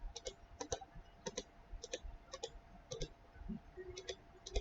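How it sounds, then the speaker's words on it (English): A computer mouse is left-clicked repeatedly while working in cabinet design software, the quiet, close clicks often coming in quick pairs at a steady pace against soft room noise. "I'm holding down the control button and then I'm left clicking on the mouse"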